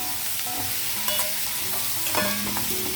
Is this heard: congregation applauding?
no